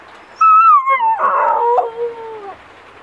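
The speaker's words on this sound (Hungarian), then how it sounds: "Ő meg itt Bella, a kedvenc kutyám." A dog lets out one drawn-out howl that bends downward into whimpering, loud and close, lasting a couple of seconds with no talking over it.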